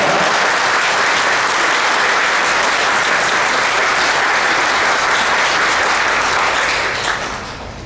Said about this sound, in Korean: 우리 큰 박수로 환영해 주십시오